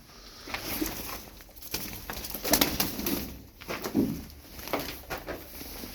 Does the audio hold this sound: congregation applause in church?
no